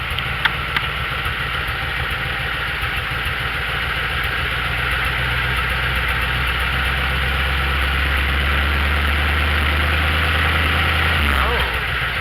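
A vehicle engine idles steadily with a low, constant hum and slight vibration, its torque converter low on fluid, with the pitch dropping away near the end.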